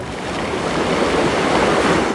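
Sea waves wash steadily onto Konyaaltı beach in Antalya, a continuous loud rush of surf with some wind noise and no voices.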